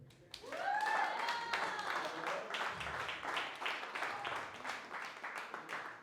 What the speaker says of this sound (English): let's give a round of applause to my brother Aaron